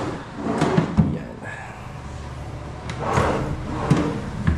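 Drawers of a TV console with a gray fluted wall panel in a small rowhouse are opened and shut, giving several soft wooden thumps and slides spread across the moment, fairly close.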